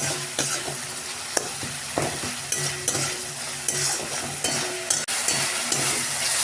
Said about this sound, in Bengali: বাটনাটা মশলাটা ভালো করে কষিয়ে নিই